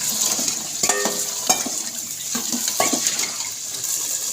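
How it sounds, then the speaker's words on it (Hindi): Potatoes sizzle as they fry in a pan for a potato and egg curry, a steady crackling hiss broken by a few sharp clinks and scrapes of stirring, with no voices. "तकरीबन 1 से 2 मिनट इन आलूओं की भी मैं इसके साथ अच्छे से भुनाई करूँगी।"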